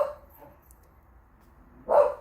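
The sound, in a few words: dog barking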